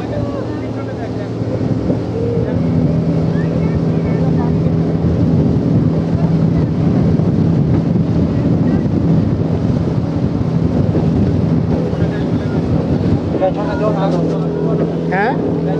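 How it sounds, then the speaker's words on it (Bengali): A high speed boat runs across the Panchet or Maithon dam reservoir, giving a continuous loud motor drone mixed with wind buffeting and water rush, while voices talk over it. "আমরা হাই স্পিড বোটে উঠেছি,"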